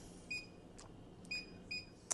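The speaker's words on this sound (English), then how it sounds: "And I'm going to put my timer." Kitchen timer being set beside a preheated oven while baking bread, giving a few short, faint electronic beeps spaced about half a second apart, then a small click at the end, in a quiet kitchen.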